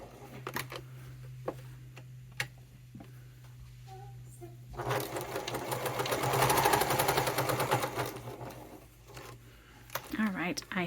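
A domestic sewing machine stitches a small fabric rectangle for a wallet facing, running in a steady dense burst for several seconds midway through, with a quiet hum beforehand and faint handling noises around it.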